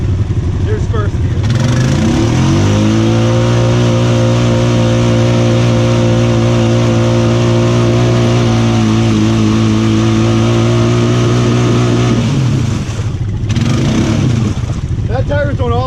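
A Honda Foreman 500 ATV engine revs in first gear on new mud tires, a loud, close, sustained drone that climbs in pitch and holds before dropping away near the end, with voices talking over it.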